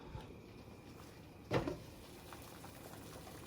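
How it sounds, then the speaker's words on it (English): A pot of water for noodle broth simmers on the stove with a faint, steady bubbling, broken midway by one brief louder clatter. "the water has been boiling"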